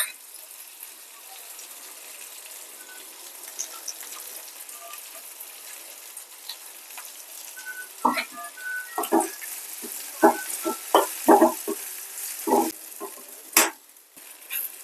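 Manila tamarind fry sizzling in a pan after coconut chili powder goes in, a soft steady hiss that turns into louder bursts of sizzle and stirring scrapes in the second half, close by with a voice in the background.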